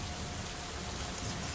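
Steady rain falls in a continuous broadband hiss, even and unbroken throughout, with no voices or other distinct sounds over it.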